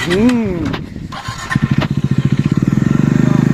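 A 400cc motorcycle engine catches and settles into a loud, close, rapid steady thumping beat that quickens slightly, after a voice speaks briefly at the start.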